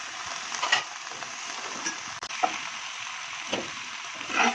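Vegetables, then pasta, frying and being stirred in a pan for tandoori pasta: soft sizzling with scraping spoon strokes and clinks at irregular intervals, close up, with no talking.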